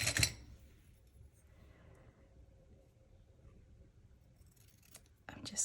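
Scissors snip a planner sticker in half at a desk, with a brief crisp cut at the start and another short cutting burst near the end, close to the microphone, separated by quiet room rustle.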